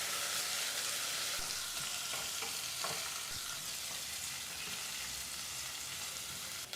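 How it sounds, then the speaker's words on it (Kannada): Chopped onion with cashews frying on medium flame, a steady dense sizzle throughout with a few soft stirring scrapes, close and even, no voices. "ಕಟ್ ಮಾಡಿದಂಥ 1 ಈರುಳ್ಳಿನ ಹಾಕಿ ಸರಿಸುಮಾರು 4 ನಿಮಿಷಗಳ ಕಾಲ ಮೀಡಿಯಂ ಫ್ಲೇಮ್ನಲ್ಲೇ ಈರುಳ್ಳಿನೆಲ್ಲ ಫ್ರೈ ಮಾಡ್ಕೋಬೇಕು."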